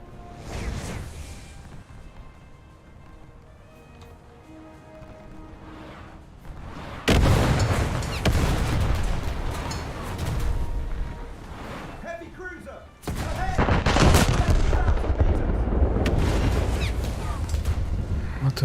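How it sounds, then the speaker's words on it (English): Secondary guns of the battleship Arizona firing in a naval battle video game: heavy booming salvos and rumbling blasts that surge loudly partway through and again near the end, with a voice talking over them. "Is it the Arizona secondaries opening upon me?"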